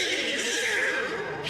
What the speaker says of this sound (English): oh, there's the space horse.